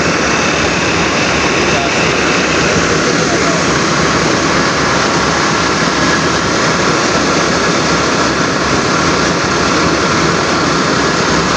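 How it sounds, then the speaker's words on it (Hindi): Tractor engine running steadily close by at a farm while sacks of maize are loaded for popcorn, a loud continuous rumble filling the whole stretch with no break. "हाँ ट्रैक्टर है।"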